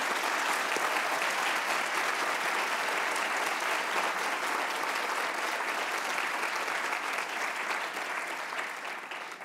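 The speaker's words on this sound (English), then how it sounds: "How about a round of applause for our veterans here at LMU?" A university convocation audience gives sustained applause for veterans, a dense, steady roar of clapping lasting nearly ten seconds before tapering off at the end.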